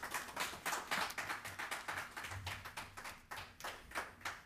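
Faint, scattered hand clapping at a press briefing on HIV and AIDS law reform, a small group heard from a distance with uneven, sparse claps.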